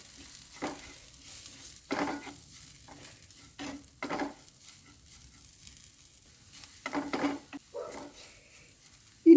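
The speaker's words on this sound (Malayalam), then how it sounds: "ഒരു കാൽ ടീസ്പൂൺ മഞ്ഞൾപ്പൊടിയും കൂടി ചേർത്ത് ഒന്ന് ഇളക്കിയെടുക്കാം" A banana flower mixture with chilli and turmeric powder is stirred in a pan, making soft, scattered scraping strokes with quiet pauses between them and a faint sizzle underneath.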